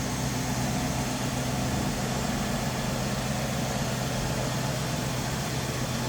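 A 1976 Lincoln Mark IV engine idles with a steady low rumble, constant and unchanging, heard close with no voices.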